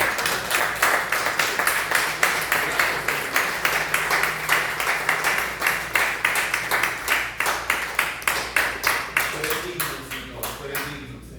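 A church congregation claps in unison during a service, loud, steady rhythmic beats at roughly two per second with a faint underlying hum, tapering off near the end.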